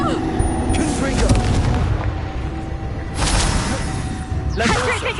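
Spell blasts from a Hogwarts Legacy fight give several booming, whooshing bursts spaced a second or two apart, with a voice shouting spell names between the explosions.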